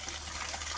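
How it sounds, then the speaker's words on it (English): Water gushing from a wide-open supply at a house under construction, a steady loud rushing wash with no breaks. "They just turned the water on, and that is wide open."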